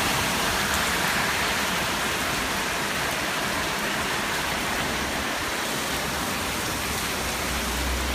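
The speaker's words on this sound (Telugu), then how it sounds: "వర్షం యొక్క నీరు సెలయేరులాగా పారిపోతుంది." Rainwater rushing along a flooded road like a stream during an evening downpour, a loud, dense, continuous wash of water and rain with no break, close and enveloping.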